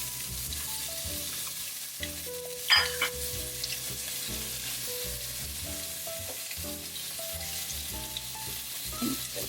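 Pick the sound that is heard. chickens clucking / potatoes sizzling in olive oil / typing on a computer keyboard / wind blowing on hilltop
potatoes sizzling in olive oil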